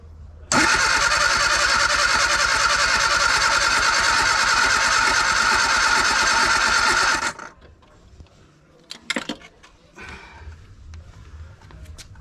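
Fuel pump on a classic Mini drawing old fuel out into a cup, a loud, steady electric whir for about seven seconds that cuts off sharply, followed by faint clicks and handling noises.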